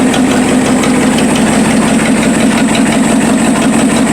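A 1956 Lincoln Y-block V8 engine running on a direct-drive setup, a loud, steady, close-up idle with a deep throbbing rumble and a rhythmic mechanical chatter, with no voices.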